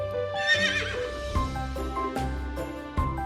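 A horse neighs loudly up close, a shrill whinny followed by shorter snorting bursts, with a few sharp knocks in between.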